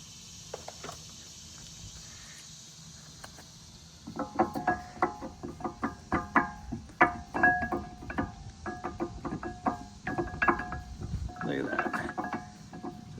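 Brembo brake pads slid into a caliper against the rotor, giving a run of close, small metallic clicks and scrapes that grows busier partway through.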